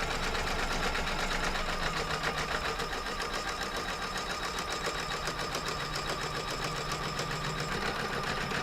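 An embroidery machine stitches dense diagonal basting, a steady, fast, even mechanical whirring and clatter running throughout without pause.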